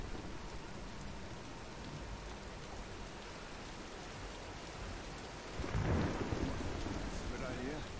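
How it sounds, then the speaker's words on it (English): Steady downpour of rain during a thunderstorm in the Tomb Raider video game, with a loud rumble of thunder swelling near the end over the constant hiss of falling water. "let's wait out the storm"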